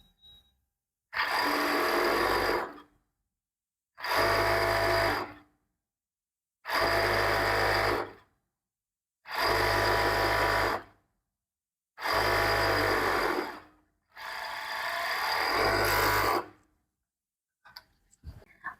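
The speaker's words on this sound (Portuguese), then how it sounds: "Passando a manga na overlock." An overlock machine sewing a shirt sleeve runs in six steady bursts of about two seconds each, separated by short pauses, loud and close, with no talking.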